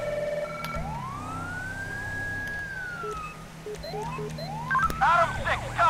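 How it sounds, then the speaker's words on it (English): Federal Signal Delta police siren in GTA V, with a long rising and falling wail followed by short chirping yelp bursts and a faster warble at the end, loud and continuous over engine rumble and background radio chatter. "Using the code, a federal signal Delta siren."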